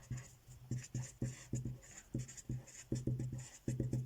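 Chalk tapping and scraping on a board during a classroom lecture, a series of short, close strokes in quick uneven bursts with brief pauses between groups.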